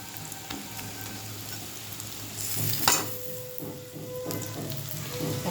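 Gram flour batter mixed with egg and onion fries in a hot pan, a steady close sizzle with stirring scrapes and a brief louder burst midway, no talking.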